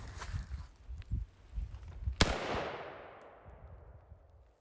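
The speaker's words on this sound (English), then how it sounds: "Let's put a couple more rounds into it, and then we'll take it down and look at it." A rifle round fired into level 3 body armor: a single sharp, loud report followed by a long fading ring-out, with low scuffs and handling noise before it and no talking.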